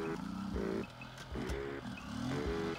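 A CG150cc motorcycle labors along a dirt trail, its small engine rising and falling in strained bursts of revving, close and fairly loud, with brief dips between pulls.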